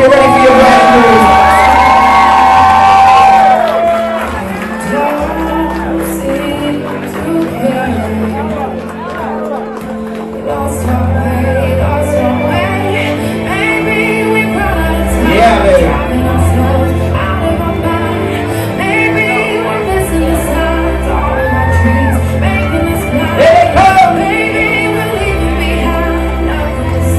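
A wedding crowd on the dance floor cheers, whoops and shouts for the bride and groom, loud and sustained over music, with an announcer's voice in between.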